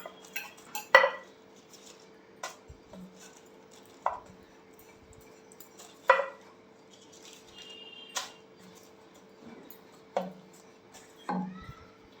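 Jowar dough being pressed into a round puri shape with a small bowl, heard as sparse, soft knocks and scrapes against a hard surface, spaced every second or two, with no talking.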